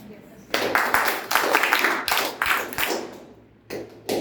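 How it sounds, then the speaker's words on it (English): An audience at a Toastmasters club meeting claps together in rhythmic bursts for an energy clapping exercise, groups of loud claps separated by short pauses, with voices heard between them. "So I would like to introduce energy clapping method. 1, 2, 3, 1, 2, 3, 1, 2, 3."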